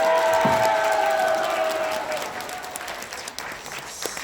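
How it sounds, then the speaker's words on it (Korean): Applause from a crowd at a Korean political-religious rally, loud at first and then fading to scattered claps, with a brief sung or spoken tone over the opening. "큰 박수를 보내주시기 바랍니다"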